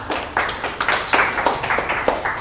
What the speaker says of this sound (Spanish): Para todos ellos, señores, un fuerte aplauso.